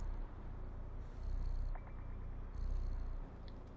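A cat purring in the video game Stray, a low steady rumble running continuously through the clip in soft pulsing waves, with faint ambient game music above and no talk.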